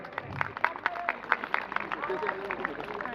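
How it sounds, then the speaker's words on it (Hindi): An audience at an Uttarakhand cultural festival claps to welcome a children's performance, with a burst of rhythmic, fairly close hand claps and voices speaking over it. "मैं उम्मीद करूंगा कि आप जोरदार तालियों से इनका स्वागत करें"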